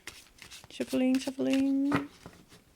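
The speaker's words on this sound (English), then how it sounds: "I've already shuffled the cards, so this is just a final shuffling." Short riffling bursts of tarot cards being shuffled, heard close up alongside a steady low hummed tone.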